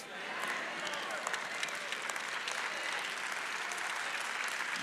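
A church congregation claps steadily through a sermon, a dense, sustained patter of many hands filling the room at even strength, with no voices over it.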